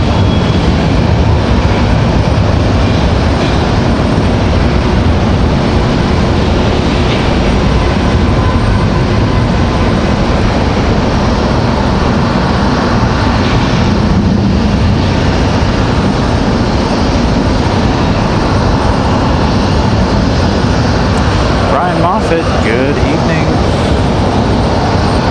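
A Boeing 737 departing heavy from Raleigh-Durham airport gives a sustained, loud jet roar that holds steady across the whole stretch, with a voice speaking faintly underneath.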